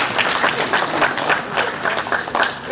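Audience applause at a fraternity ceremony, loud rhythmic clapping from a nearby group with distinct individual claps that pulse throughout.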